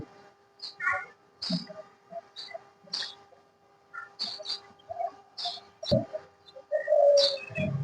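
Peafowl at the Chattogram zoo give sharp, meow-like calls mixed with scattered chirps from other birds. The calls repeat in short bursts, and a louder, drawn-out cry comes near the end.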